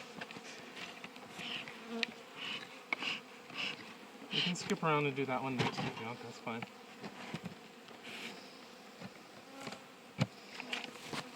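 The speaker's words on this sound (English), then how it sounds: "I have bees all over me." A cloud of honey bees buzzes steadily around an opened spring beehive, close and continuous, while a person talks over the droning swarm.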